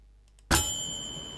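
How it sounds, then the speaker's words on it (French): A small bell gives a single bright ding for a typewriter effect, struck once after a brief silence and ringing out clearly as it fades over about a second. "Et on va mettre la petite sonnette"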